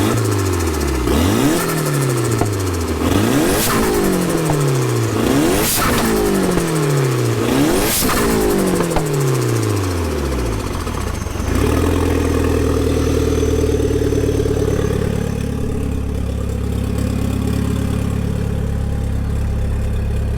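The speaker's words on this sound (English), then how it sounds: "I'm gonna go ahead and give this thing a couple good revs, shut it down" A freshly built Nissan SR20 engine in an S14 on its first start revs hard several times in a regular rising-and-falling pattern, then settles into a loud, steady idle close by.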